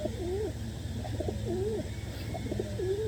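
Pigeons cooing in repeated soft, rolling calls, fairly close, over a low steady background hum, in Baliuag, Bulacan.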